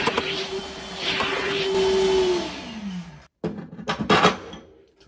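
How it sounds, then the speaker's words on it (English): A vacuum cleaner sucks debris out of a freshly drilled hole in a VW Bug. The motor's whine winds down, followed by scattered clattering and handling noises. "vacuum it out."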